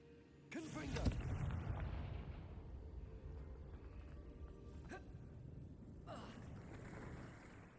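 A Confringo fire spell cast in Hogwarts Legacy bursts with a loud fiery whoosh, rumbles on, and then a second flare follows.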